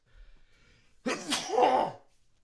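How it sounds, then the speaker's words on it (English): A single loud, close sneeze preceded by a faint inhale, bursting out and trailing off. "I gotta sneeze"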